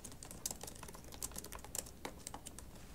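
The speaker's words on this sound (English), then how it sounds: "Then I'll type some text" Rapid, uneven keystrokes on a computer keyboard clatter close by for the whole stretch, a quiet continuous run of typing with no voices.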